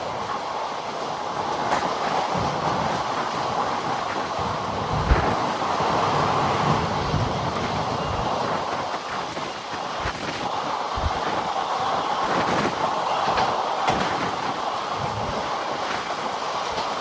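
An Intercity Express train runs toward Thiruvananthapuram Central, a continuous loud rumble of wheels and rushing air with rhythmic clatters over the rail joints, heard from inside a general-class coach.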